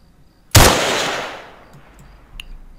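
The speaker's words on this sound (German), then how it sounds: "Wer schießt? Schießt ihr?" A single loud, close gunshot in the military survival game Arma 3 Breaking Point cracks sharply and then rolls off in a long echoing tail, with a faint distant pop near the end.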